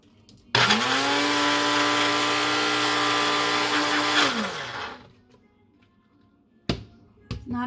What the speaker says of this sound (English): we're just going to put that blade on there and blend it.